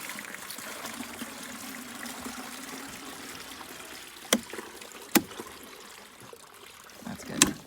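Water poured into a chicken water container outdoors in winter, a faint, steady trickle close by with a few sharp clicks and knocks from the container near the end.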